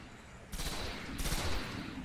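Rifle gunfire in the Destiny video game, a dense burst of rapid shots starting about halfway through and continuing steadily, fairly loud with no talk.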